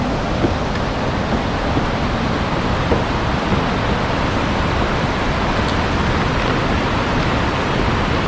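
The top of Tad Yuang waterfall near Pakxong in Laos gives a loud, steady, unbroken roar of rushing water that fills the whole stretch, with no voices.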